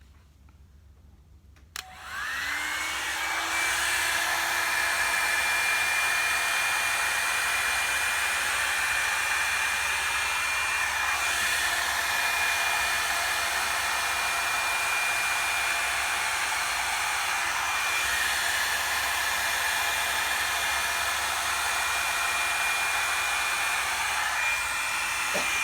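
A Revlon hair dryer volumizer switches on after a brief quiet moment and runs steadily at high power, a loud continuous whooshing roar with a faint motor whine.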